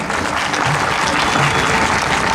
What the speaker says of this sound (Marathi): आपण एकदा जोरदार टाळ्या सगळ्यांसाठी वाटतो.